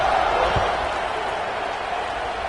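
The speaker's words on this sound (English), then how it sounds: "this crowd is buzzing after that last score" Stadium crowd buzzing in a college football video game, a dense, steady roar of many voices held at constant loudness, with a brief thud near the start.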